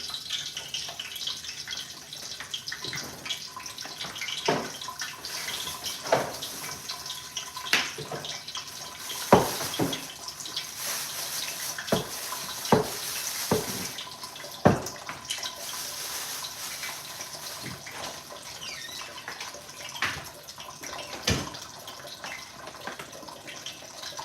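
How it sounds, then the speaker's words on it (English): A kitchen tap runs water for potatoes, a steady low splashing flow broken by irregular clatters and knocks of pans and utensils, close by and fairly quiet, with no talking. "Let the water run for the potatoes."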